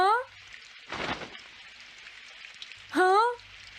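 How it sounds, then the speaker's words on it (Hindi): Cartoon rain falls as a steady soft wash, with a burst of heavier patter partway through, while animated characters speak in Hindi over it. "काश ये बारिश जल्दी से रुक जाए"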